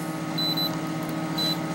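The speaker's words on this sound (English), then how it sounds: "You can see here our display is telling us that we have an alarm." An ECM display alarm beeps during a harness test of an industrial Cummins QSM11 engine being converted for marine use, giving two short high beeps about a second apart over a steady hum.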